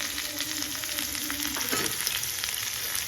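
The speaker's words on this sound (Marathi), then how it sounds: "मी माझ्याकडे ज्या मिरच्या आहेत त्या टाकणार आहे आणि थोडस जिरं पण" Green chillies and cumin seeds frying in hot oil for a homemade Maharashtrian chilli thecha, giving a dense, continuous crackling sizzle with stirring, close and unbroken, with nobody speaking.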